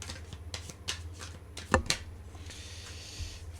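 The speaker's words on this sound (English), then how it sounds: "The problem with this deck, they haven't got the smoothest shuffle action." Cards riffled and shuffled in quick crisp bursts, a few sharp snaps standing out, close and fairly quiet with no voices.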